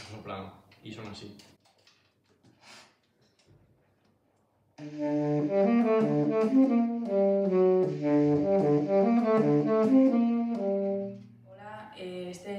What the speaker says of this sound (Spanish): este es el saxofón tenor,